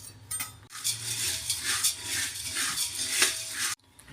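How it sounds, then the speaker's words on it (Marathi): Puffed rice (chirmure) dry-roasting over a low flame in a pan, with a steady dry rustling and scraping of grains stirred against metal, fairly close and continuous with a few sharper clinks. "हे चिरमुरे खुशखुशीत होस्तवर मंद जाळावर भाजायचे"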